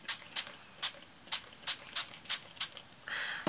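Short hissing bursts of spray from a can or bottle repeat about a dozen times at uneven intervals during mixed media craft work, ending in a longer, steadier spray.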